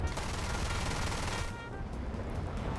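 An A-4 Skyhawk's onboard gun firing in War Thunder, a sustained rapid burst of rattling shots that stops about halfway, leaving a softer engine drone, moderately loud and close.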